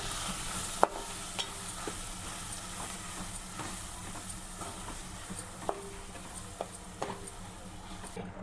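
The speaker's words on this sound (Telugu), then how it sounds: "ఇప్పుడు మనం మిక్సీకి పట్టుకున్నటువంటి ఈ చట్నీని ఇందులో వేసుకొని మొత్తం కలిసే వరకు ఒకసారి కలుపుకుందాం" Mint chutney mixture is stirred in a pan. A spoon clinks and scrapes against the pan at irregular intervals over a faint, steady background hiss.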